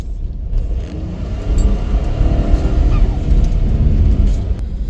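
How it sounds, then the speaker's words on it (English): A 2025 Ford F-150 with an aFe Magnum Force Stage 2 intake goes to full throttle. Its engine builds into a loud, deep, steady roar with a faint turbo whine on top, heard close up without talk. "And now we're just gonna mash the gas."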